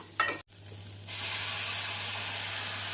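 Ground tomato paste hits hot oil with sautéed onion, ginger and garlic paste, giving a sudden close hiss that settles into a steady loud sizzle, after a brief clatter as it goes into the pan.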